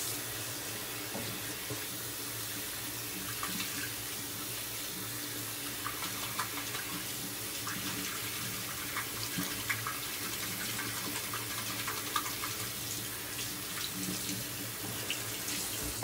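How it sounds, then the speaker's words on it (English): A shaving soap puck is rinsed under a running tap, steady splashing water flowing for the whole stretch with small spatters, close and moderately loud, no talk. "Just rinsing off my puck there."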